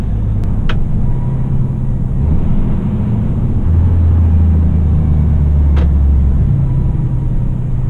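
Steady low engine rumble inside the cab of a moving DAF XG+ truck, loud and continuous, with faint brief clicks now and then and no talk.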